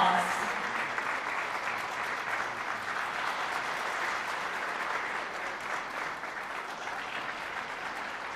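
Warm applause fills a large hall at the Sunhak Peace Prize award ceremony, a dense, even roll of many hands that is moderately distant and holds steady before tapering slightly. A voice is briefly audible at the very start.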